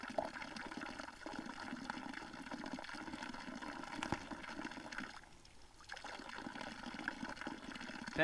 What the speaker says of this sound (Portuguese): a água vem bem devagarzinho por ali